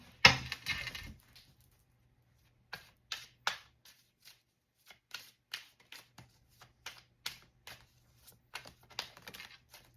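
Tarot cards shuffled by hand in short, crisp bursts of riffling and flicking, fairly close, with a dense rustle at the start and then scattered quick snaps spread over the rest with pauses between.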